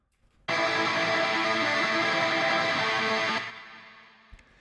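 A sustained, dense distorted death metal guitar tone with a thick wash of echo and reverb rings loudly for about three seconds, then cuts and fades into a lingering tail.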